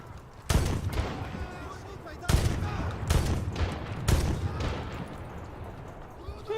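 Gunshots in the Medal of Honor video game, four loud separate bursts spaced about a second apart, each with a short echoing tail, with a voice speaking between them.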